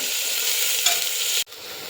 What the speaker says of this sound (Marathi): कांदा हा व्यवस्थित गोल्डन होईपर्यंत परतवत राहायचा आहे